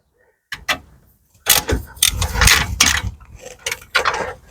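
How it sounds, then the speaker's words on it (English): A hand ratchet working a bolt on the front wheel bearing of a BMW E92 3 Series, loud and close, with bursts of metallic clicking and clanking separated by short pauses. "Let's do that with the ratchet."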